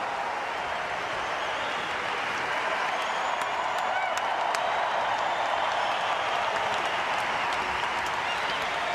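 Sustained crowd applause and cheering fills a Laver Cup 2019 tennis match between Thiem and Shapovalov, a dense, steady roar of clapping that holds evenly throughout with faint voices mixed in.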